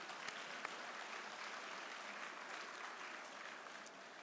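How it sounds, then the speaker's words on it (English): A crowd at an awards event applauds continuously, a soft, even wash of clapping heard from a distance, with a few sharper individual claps standing out. "that deserves a clap"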